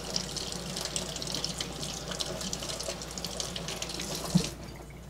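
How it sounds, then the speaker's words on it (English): Kitchen tap running steadily while shrimp are rinsed for puttanesca, a soft continuous hiss of water falling into a sink with a faint clink near the end. "Now I have to rinse these."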